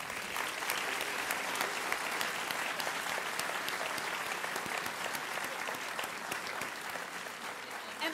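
An audience applauds a panel at the close of a health policy discussion, with steady, dense clapping throughout that fades a little near the end.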